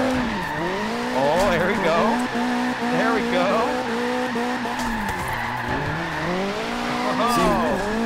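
Tires squeal and skid continuously as a Mazda MX-5 drifts in Forza Horizon 3, a loud wavering screech over a revving engine that rises and falls with each slide, while someone talks briefly.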